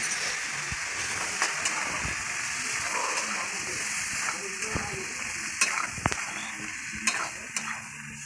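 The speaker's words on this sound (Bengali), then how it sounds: "এবারে মশলাটা আমি কষবো।" Spice paste for ghugni, with a little water added, sautés in a pan with a steady close sizzle and frequent scraping strokes of a stirring spoon.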